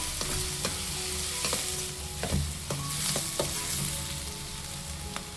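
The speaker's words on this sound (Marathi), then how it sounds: "आता घालूयात ह्यामध्ये थोडंसं हळद, चांगलं परतून घेऊयात." Softened onion with a pinch of turmeric is stir-fried in a pan, a steady sizzle punctuated by several sharp scrapes and knocks of the spatula, close up with no voice over it.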